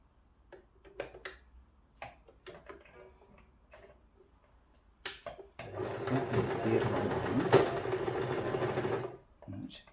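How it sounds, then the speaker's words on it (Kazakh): A domestic sewing machine stitches fabric through to the lining along a freshly drawn line, running steadily for about four seconds after sparse clicks and handling noises, with someone speaking before the run. "астарға шейін мен қазір тігіп шығамын"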